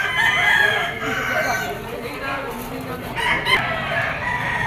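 A Gilmore bull stag gamecock crows loudly and close at a market in Padre Garcia, Batangas, one drawn-out call with a second rising burst near the end, over the murmur of people talking nearby.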